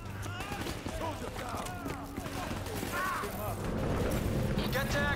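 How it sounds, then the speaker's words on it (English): Gunfire in Call of Duty Black Ops III, with rapid shots and mechanical clatter layered under game sounds and voices. The firing grows into a denser roar toward the end. "There's so much shooting, bro."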